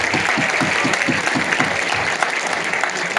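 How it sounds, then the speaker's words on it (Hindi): Audience at a meet-up clapping in a steady, dense round of applause, moderately loud and close, with a faint murmur of voices underneath. "एक बार ताली बजाते हैं।"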